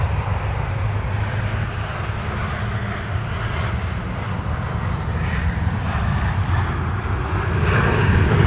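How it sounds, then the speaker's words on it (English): A United airliner bound for O'Hare rotating off the South Parallel runway at MSP in winter twilight, a deep, steady engine rumble that swells slightly louder toward the end. "we were looking at our United flight to O'Hare rotate off"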